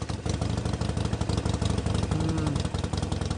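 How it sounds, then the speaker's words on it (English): A Harley-Davidson motorcycle engine runs steadily with a low, throbbing idle that stays loud and continuous throughout, with no speech over it. "the sound of a Harley"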